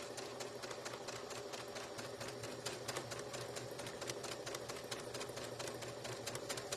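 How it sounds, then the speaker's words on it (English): A sewing machine backstitches at the corners of a fabric carrot. Its rapid mechanical stitching chatters steadily and faintly throughout, with no talking. "I am going to backstitch again at both corners."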